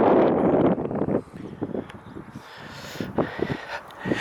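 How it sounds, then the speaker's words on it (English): Wind gusts across an open earthwork castle mound at Gresley, buffeting the microphone in loud, rough rumbling bursts that ease off and then pick up again, with no voices. "suddenly I get here and it's windy."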